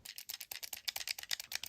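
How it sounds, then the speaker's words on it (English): Rapid, crisp plastic clicks of mechanical game controller buttons being pressed in a quick irregular series, close up and fairly quiet. "The fully mechanical buttons sound like this."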